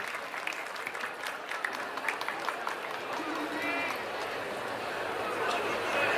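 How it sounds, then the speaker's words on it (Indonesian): Crowd applause at the opening of the Bali Arts Festival 2022, with dense sustained clapping from a large audience that grows slightly louder toward the end, and some chatter mixed in. "Tepuk tangan untuk Dekranasda Daerah Provinsi Bali"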